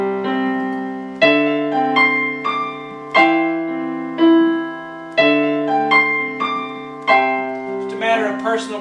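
Piano played with the left hand shifted down an octave, a close, clear run of notes and chords in a steady lilting rhythm, with a brief burst of noise at the very end.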